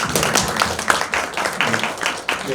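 Seminar audience clapping for researchers at the close of an academic session on forest politics, a brief burst of fairly close, uneven hand claps with some murmuring voices.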